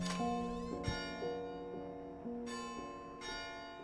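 Bell tolling in the Layers of Fear video game, several resonant strikes ringing out with long, overlapping decays, sounding alone without talk.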